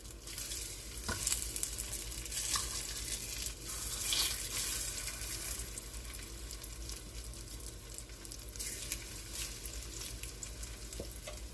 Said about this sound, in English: I hear the sizzling.